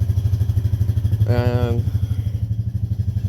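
A Honda Rancher 420 ATV engine warms up at idle, a close, steady chugging rumble with even pulses throughout and a brief higher whine partway through.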